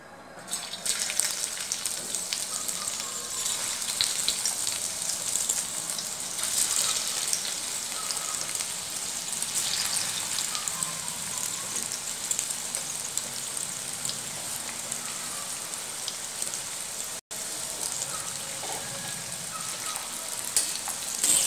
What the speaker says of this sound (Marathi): तर आता मी तेल गरम करत ठेवलेलं आहे. तर तळून घेऊया आपण आता.